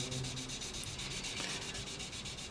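Steady, continuous scratchy rasp of a 1000-grit sanding stick rubbing back and forth on a small plastic model part, close up and fairly loud, with no voices.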